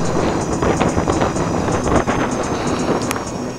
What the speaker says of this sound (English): Of course it's windy out here today.